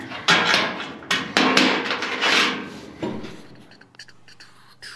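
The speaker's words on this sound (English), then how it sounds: "need to hit with the hammer" A hammer strikes close by while floors are built on a 1940 Mercury, several sharp, ringing knocks at irregular intervals that fade into lighter taps and rattles.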